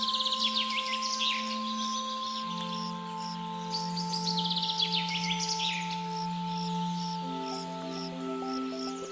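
Birds calling in the Amazon rainforest, bursts of bright chirps and trills rising over a steady insect-like hum and sustained tonal drones, moderately near and layered.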